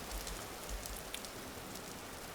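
Rain in the video game Vintage Story, a soft steady patter of drops falling on surfaces, faint and continuous with a few slightly louder ticks.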